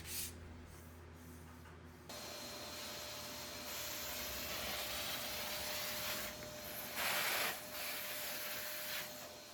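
A vacuum cleaner roars steadily nearby, a broad continuous hiss with a faint whine, swelling briefly louder as it moves.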